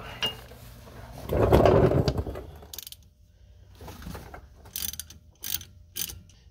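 A socket wrench works loose the transfer case bolts on a 1999-2003 Ford Super Duty, with a loud burst of grinding ratchet clicks followed by quieter scattered clicks and clanks nearby.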